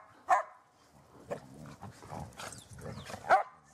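Dogs play-fighting: low rumbling growls run throughout, broken by two loud sharp barks near the start and the end, heard close with no talking.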